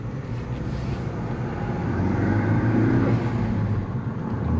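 A Ford Focus ST with a six-speed manual transmission and a missing second gear pulls away in first, its engine note a dense, steady roar that builds slightly, loud and close with no talking.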